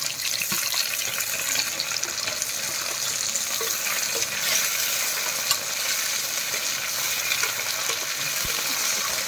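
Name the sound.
frying onion and taro in a pan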